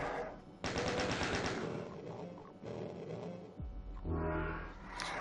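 A Chaingunner's rapid automatic fire in the video game DooM 2 rattles in quick evenly spaced bursts, loud and close, with a deep roaring boom rising near the end.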